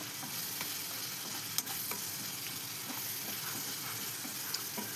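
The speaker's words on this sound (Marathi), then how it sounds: "मिरच्या आपल्या तेलामध्ये छान शिजलेल्या आहेत" Green chillies fry in hot oil in a pan, giving a steady, fine sizzle with small crackles and pops throughout and one sharper tick about midway.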